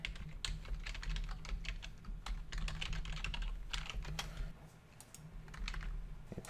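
A password is tapped out on a computer keyboard, quick irregular clicks of keys in short bursts with a brief pause, close and fairly quiet over a low background hum.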